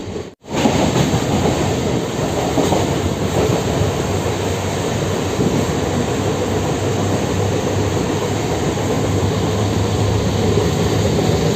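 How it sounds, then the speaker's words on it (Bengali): A night passenger train runs toward Kolaghat station between Mecheda and Bauria, a loud continuous rumble with clickety-clack of wheels on rails heard from on board, no talking. "এই মুহূর্তে আমাদের ট্রেন এসে পৌঁছালো কোলাঘাট স্টেশনে"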